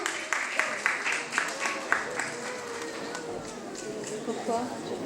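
Scattered applause from a school spelling bee audience, quiet and somewhat distant, with a few sharper claps early that thin into a softer patter.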